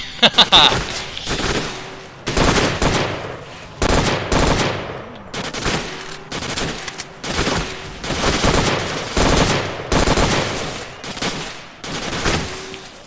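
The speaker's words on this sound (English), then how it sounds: "And now this other asshole is shooting at us too" Enemy gunfire in the shooter game S.T.A.L.K.E.R., loud repeated bursts of automatic and single shots coming in rapid clusters with short gaps, continuing throughout.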